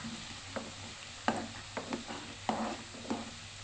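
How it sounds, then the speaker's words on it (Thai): Finely blended garlic fries in oil in a pan over low heat and is stirred constantly. A soft, steady sizzle runs beneath quiet scraping strokes of the spatula that recur every half second or so. "เจียวด้วยไฟอ่อนค่ะหมั่นคนตลอดคนเรื่อยๆนะคะ"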